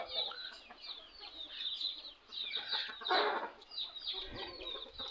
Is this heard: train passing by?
no